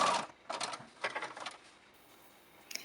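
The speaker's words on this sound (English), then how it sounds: "sewing a regular zigzag stitch down the straight edge of the skirt and it's right sides together" A sewing machine runs a zigzag stitch along the straight seam of a skirt in short close bursts of rapid mechanical whirring, separated by brief pauses.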